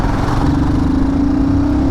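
A Royal Enfield Guerrilla 450 motorcycle engine runs steadily around 3000 RPM, a loud, close, continuous mid-pitched drone with a constant tone and no pauses.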